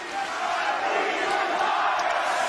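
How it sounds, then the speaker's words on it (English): Wrestling crowd in an arena chanting in unison during a televised AEW Dynamite show, a dense, steady roar of many voices sustained throughout without a break. "We get a please retire chant from the crowd."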